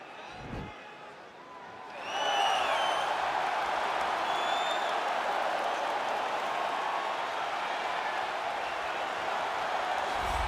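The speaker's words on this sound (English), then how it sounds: "you hear the pop from the crowd" A big arena crowd in the UFC 4 video game swells into a sustained roar during a welterweight championship walkout, Usman versus Diaz. The noise jumps up after a quieter start and holds loud and steady.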